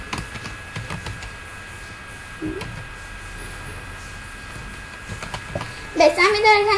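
A name is typed on a computer keyboard as a run of light, irregular key clicks at close range. Near the end a voice briefly speaks over it.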